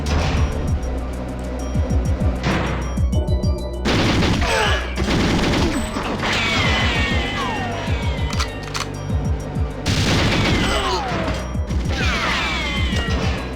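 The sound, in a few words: gunfire in the video game GoldenEye 007 (N64)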